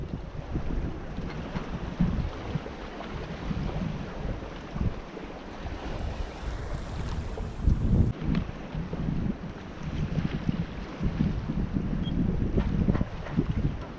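Continuous wind rushes and buffets the microphone while water sloshes and churns along the hull of a sailboat running downwind at about five knots on a following swell, with no voices.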